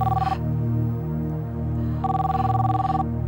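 A telephone rings in short repeated electronic bursts over a low steady hum, close and clear, with a pause between two ring bursts and no speech.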